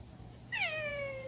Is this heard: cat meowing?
yes